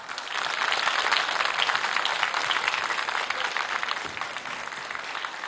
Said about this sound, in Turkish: güzel alkışlarınızı buraya almak istiyorum efendim